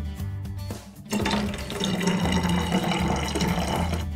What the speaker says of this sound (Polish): Do spryskiwacza wlewamy około 50 ml octu ryżowego i 300 ml wody.